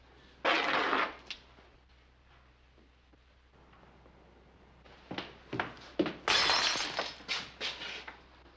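Glass shatters loudly in a saloon, a sharp crash early on, then after a quiet stretch a series of further smashes and breaking thuds in quick succession.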